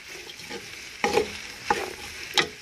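A spoon scrapes through Nigerian seafood okra soup with snail in a pot in three distinct strokes, each a short, close scraping swish over a faint bubbling sizzle.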